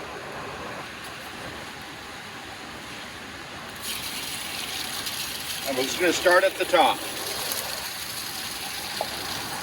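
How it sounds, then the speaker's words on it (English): Water sprays onto a screen at a gold-mining setup, a broad steady hiss rising midway under a nearby engine drone while someone talks over it. "we're gonna give it a little bit of water"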